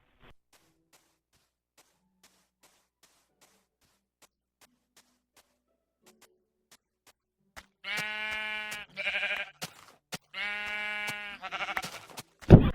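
Sheep bleating in the video game Minecraft, two or three wavering bleats coming after several seconds of near silence with faint ticks, clear and fairly close.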